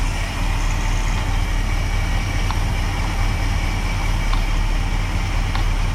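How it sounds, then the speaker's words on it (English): A car engine idles steadily during an alternator check, a close, even rumble with no change in pace, and faint clicks and ticks come through now and then. "If I remove this, the engine should keep running."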